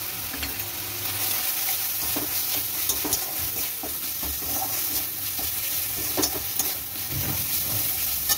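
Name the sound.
cumin coriander powder and salt stirred into frying spinach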